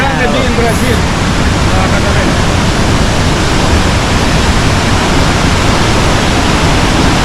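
Iguazú Falls roaring as a loud, steady wash of broadband noise that fills the scene without pause, close and continuous.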